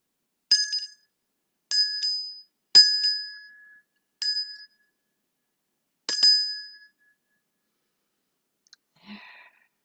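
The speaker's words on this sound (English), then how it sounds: "And a sweet bell." A small bright bell rings five separate times at uneven intervals, each chime clear and ringing out briefly into silence, followed by a faint rustle.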